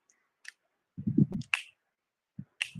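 A few sharp finger snaps spaced irregularly over a couple of seconds, close and dry, with a short cluster of soft low thumps in the middle, otherwise quiet.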